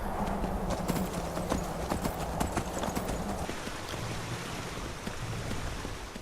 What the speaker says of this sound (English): Do you know how difficult it is to ride a horse down that darn mountain?